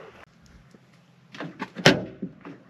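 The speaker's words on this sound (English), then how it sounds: "I gotta pop the door apart and see what's going on in there" Volkswagen Vanagon door being worked open: a soft thump, a few clicks and latch rattles, then a sharp louder clunk with trailing knocks, close and fairly quiet.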